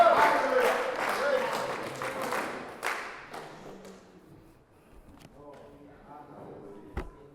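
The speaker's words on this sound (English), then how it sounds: "give a clap offering to the Lord" Church congregation clapping together as an offering during a prayer service, a dense burst of loud applause that gradually thins and fades into scattered claps and sparse taps.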